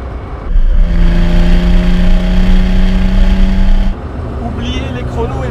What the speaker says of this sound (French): À la moindre caresse de l'accélérateur, le moteur grimpe dans les tours comme s'il n'avait aucune inertie.